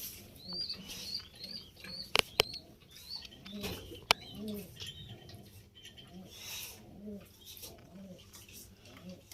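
Caged pigeons coo in soft repeated calls, close by, with scattered fluttering and a couple of sharp knocks, and a voice talks intermittently beneath.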